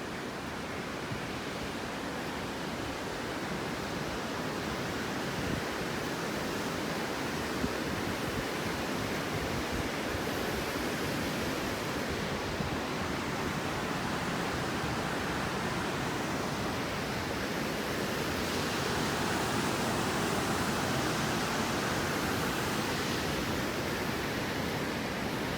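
The West Fork of the Dosewallips River rushes through a deep canyon below a steel girder bridge, a steady, loud broadband roar of whitewater that holds constant throughout with no voices.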